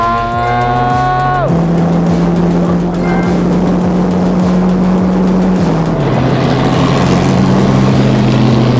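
An engine fires up with a quick rising whine, then settles into a loud, steady idle with a throbbing pulse and shifts pitch near the end.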